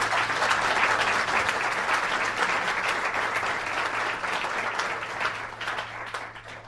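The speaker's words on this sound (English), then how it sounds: "I'd like to thank and acknowledge our presenters with a round of applause." Sustained applause from an audience at an academic talk on Bosnia and Herzegovina, a dense, steady wash of many hands clapping that stays loud for several seconds and tapers slightly near the end, with a low steady hum beneath.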